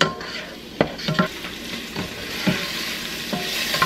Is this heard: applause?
no